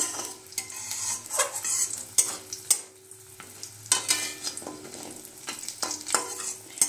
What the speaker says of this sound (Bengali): তো এটা একটুখানি জাস্ট তেলের সঙ্গে নেড়ে নেব।